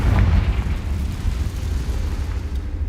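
A Confringo fire spell from Hogwarts Legacy erupts in one heavy, booming blast right at the start, its deep roar rolling on and slowly fading over a few seconds.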